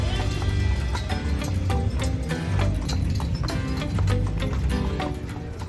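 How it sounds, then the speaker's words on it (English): Horse hooves clip-clopping on pavement during a carriage ride at the Fort Worth Stockyards, a steady rhythmic trot heard up close over faint background noise. "a carriage ride."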